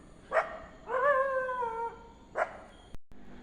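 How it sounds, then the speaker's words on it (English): Several dogs in a town bark and howl, short sharp barks followed by a drawn-out wavering howl and another bark, moderately distant and clear against a quiet background. "Oh, more dogs."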